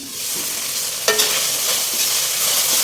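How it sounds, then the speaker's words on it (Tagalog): Liver stir-frying in a pan, with a constant loud hiss of frying under occasional scrapes of a spatula, one sharper knock midway, heard up close. "Sasangkot lang natin ng maigi ito para mawala talaga yung lansa ng atay."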